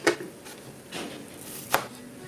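Knife chopping onions and vegetables on a board for a Jamaican ackee and saltfish breakfast, a few sparse crisp cuts spaced apart, quiet and close with no talking.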